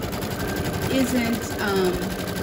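An embroidery machine runs a placement stitch outline on a doll design with a steady, fast mechanical chatter throughout, and speech can be heard over it.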